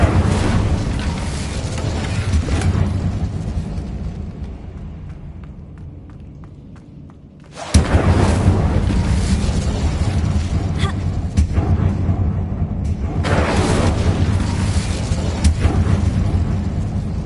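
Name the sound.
Incendio fire spell in Hogwarts Legacy video game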